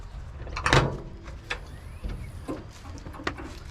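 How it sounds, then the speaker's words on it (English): Aluminium side doors of a Rhino Cab Extreme canopy on a ute are unlatched and swung open one after another, giving a sharp clunk followed by lighter clicks and knocks at a moderate distance. "I'll just go around and open all the doors up so you can get some light in there"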